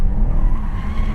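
Tires on a BMW 4 Series screech in a brief, loud skid while the driver counter steers, with engine noise underneath and no speech.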